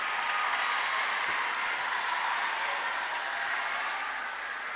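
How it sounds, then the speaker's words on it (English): An audience at a school quiz competition claps steadily for a house team, a dense, even patter of applause that holds for several seconds and tapers slightly at the end. "Can we clap for Gaba house?"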